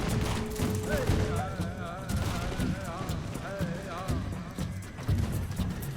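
Musket volleys crackle through an Empire: Total War battle as guard and line infantry fire, a dense continuous rattle of massed gunfire with game battle noise and tonal whistling layered over it, steady and loud throughout.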